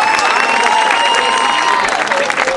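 A live crowd at a rap battle final in Pichilemu applauds and cheers for the battler Rodamiento, with steady, dense clapping and whistles held throughout the short stretch.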